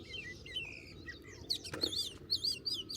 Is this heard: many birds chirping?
yes